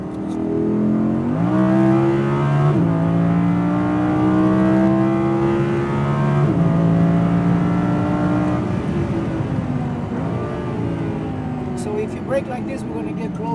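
Audi R8 V10 RWD pulling hard around a race track, engine revving up through rising tones with gear changes, loud and close from inside the car, with an instructor talking over it.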